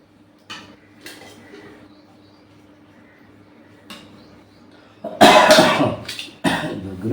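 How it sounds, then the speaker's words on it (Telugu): Several short coughs break out in a quiet kitchen where a potato kurma and pulao are being cooked, the last two louder and harsher, with faint clinks of pots and cutlery between them. "దగ్గు వచ్చిందంటే తొందరగా తగ్గదు."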